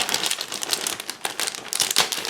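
Thin plastic covering on Paige Evans acetate crinkles and crackles close up, a busy run of sharp rustles through the whole moment with no talking.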